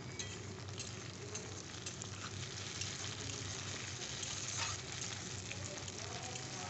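Chopped tomatoes and green chillies fry with browned onions in a pan, a faint, steady sizzle and crackle that runs evenly throughout, with no voices.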